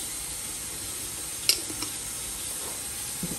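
Beef steak frying in a splash of oil in a pot, a steady close hiss and sizzle with a couple of faint clinks as the meat settles.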